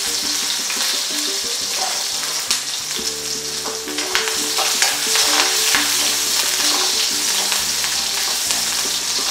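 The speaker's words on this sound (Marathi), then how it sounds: "तेल पण आपलं तापलेलं आहे, त्याच्यात हा लसूण घालूया" Crushed garlic and chopped chillies fry in hot oil, giving a loud continuous sizzle broken by the scrape and clatter of stirring in the pan, with no talk over it.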